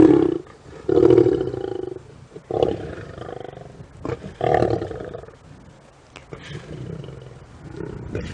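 A lion roars repeatedly in the dark on an evening safari drive, deep rumbling calls rising and fading in a series of loud grunting bursts, close and dominant with no speech over them.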